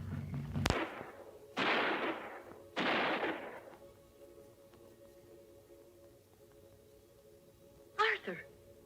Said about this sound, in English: Those were gunshots.